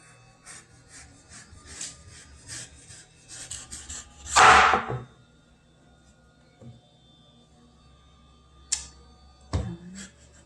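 Knife forced through a hard raw rutabaga on a cutting board, a loud crunching rasp in the middle followed by two short sharp cracks later, with quiet scraping and handling sounds around it.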